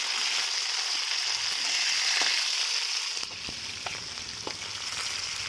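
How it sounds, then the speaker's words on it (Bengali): Whole pakal and tengra fish fry in oil with a close, steady crackling sizzle that drops slightly in level partway, with a few light clicks of a utensil. "মাছগুলো প্রায় ভাজা হয়ে গেছে।"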